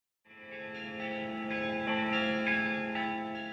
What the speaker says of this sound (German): Seit über 800 Jahren sind die Glocken der Domkirche von Visby zu hören.